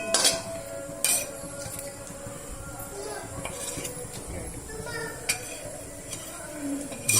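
Kerala-style prawns are stirred in a pan with virgin coconut oil. A spoon scrapes and clinks against the pan over a steady sizzle, with occasional sharper taps.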